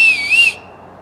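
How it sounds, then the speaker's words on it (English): An emergency whistle made by blowing across an acorn cap held behind the thumbs gives one shrill, close, wavering tone lasting about half a second before cutting off, outdoors in a cedar barren. "If you're ever in the woods and you need an emergency whistle, just find an acorn cap."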